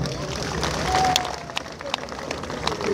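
A church congregation breaks into applause, a burst of many hands clapping amid crowd murmur and talk, moderately loud and close.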